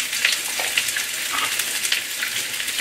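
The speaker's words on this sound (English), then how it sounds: "Give them a quick stir." Vegetables with ginger and garlic stir-fried for a sweet and sour dish, a dense, bright sizzle with quick tossing scrapes, close and continuous, no talking.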